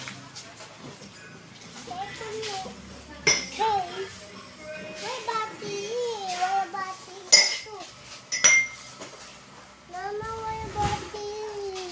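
Cooking pots clink in a shop, a few sharp metallic knocks scattered through steady chatter, with children's voices talking over them.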